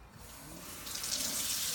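Tap water runs steadily into a container of rice for microwave cooking, a continuous hissing splash that grows slightly fuller as it fills, close and moderately quiet with no talking.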